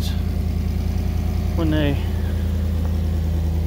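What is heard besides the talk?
2017 Chevy Silverado dual exhaust idling, possible exhaust leak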